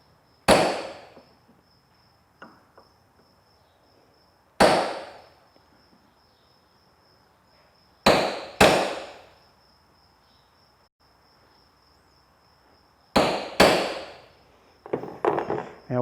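Cold chisel driven into wood with single sharp hammer blows to cut a groove for a lathe drive, five or six loud close strikes spaced seconds apart, each ringing briefly, with a faint steady high whine behind and quick lighter taps at the end.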